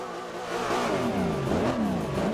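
Nissan GT-R engine revving in the racing game Forza Horizon 2, a steady loud mid-pitched roar with rising and falling rev sweeps, close and alone without talk.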